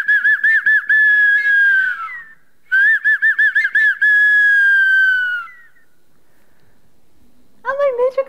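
Flute imitating kāroro black-backed gull calls in two long wavering whistled phrases with pulsing trills, close and clear, followed by a brief burst of higher warbling notes after a pause.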